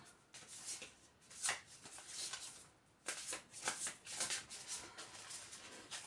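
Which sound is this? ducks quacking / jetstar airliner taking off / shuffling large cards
shuffling large cards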